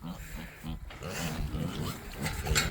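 Pigs on a family farm eat food scraps. Close grunts and snuffling chomps repeat in a quick, uneven rhythm over outdoor background noise.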